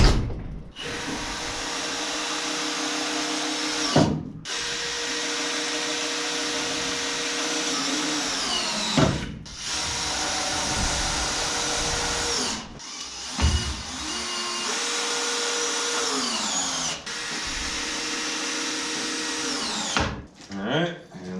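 A power drill drives screws through a metal bracket into lumber while building an IBC tote grain storage bin, heard as several long, loud whirring bursts separated by brief pauses.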